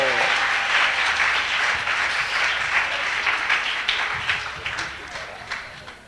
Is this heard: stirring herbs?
no